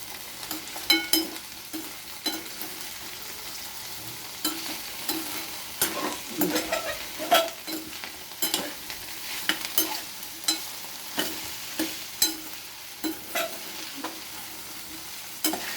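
Okra (bhendi) frying in a pan with half a spoon of salt is stirred with repeated scraping strokes over a steady soft sizzle, the strokes coming irregularly about once a second, close and with no talk.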